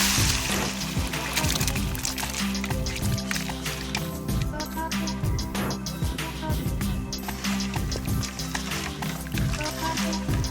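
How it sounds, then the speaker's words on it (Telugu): Bone broth poured into a pan of goat head curry with curry leaves and coriander, a steady running liquid sound lasting throughout, with voices and kitchen clatter around it. "చిట్టపట్లు అన్నాక ఎముకల పులుసుని దీంట్లో పోసుకోవాలి"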